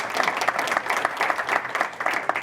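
A small conference audience claps after a talk on revenue from networking and events at a state press convention, a short burst of steady, moderately close applause from a modest crowd.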